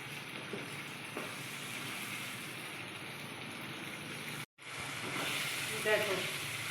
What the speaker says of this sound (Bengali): একটু আমি কষিয়ে নেব।